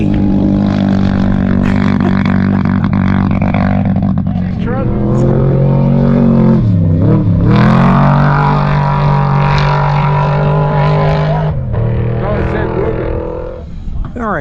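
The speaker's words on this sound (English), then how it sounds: "here comes an ATV" An ATV in a desert race roars past at mile marker 537. The engine drones loudly, and its pitch rises and then dips as it passes close by, under steady talk from a bystander.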